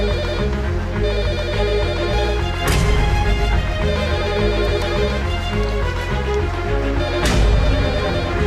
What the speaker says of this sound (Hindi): उठाओ फोन जल्दी।